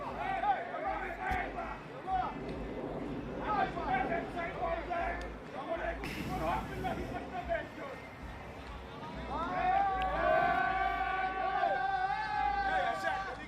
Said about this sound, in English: quite fun to hear a raucous cricket crowd